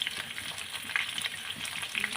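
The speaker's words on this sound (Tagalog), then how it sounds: "So, prito-prito po natin ang ating bawang sibuyas." Garlic and onions fry in a pan for beef bistek, a steady close sizzle with crackling pops and the occasional stir, with no voices.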